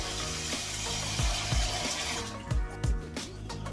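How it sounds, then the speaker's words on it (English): Water splashes and pours into a bowl to cover sliced halloumi in a kitchen, with gurgling bursts and a few thuds, fairly faint and without speech. "Put the bowl in some water."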